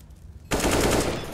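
A single burst of rapid automatic gunfire from a Counter-Strike: Global Offensive match cuts in abruptly after a quiet moment, dense and loud for about a second.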